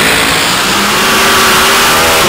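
A dirt drag racing car engine on its run at an ultra-quick dirt drags event roars loud and close, a sustained high-revving blast that fills the whole stretch with no voices.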